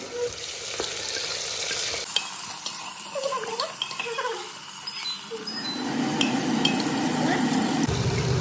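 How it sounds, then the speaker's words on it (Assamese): Onion frying in a pan for a jackfruit curry, a close steady sizzle with scattered clinks and scrapes of utensils, the frying growing louder and denser toward the end. "পিঁয়াজ অকণমান ৰঙচুৱা হোৱালৈকে মই পিঁয়াজখন ভাজিম।"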